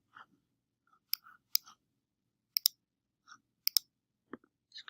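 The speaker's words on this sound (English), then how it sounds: "So I'm going to click on share." Sharp, quiet computer mouse clicks, sometimes in quick doubles, spaced irregularly across a few seconds with silence in between.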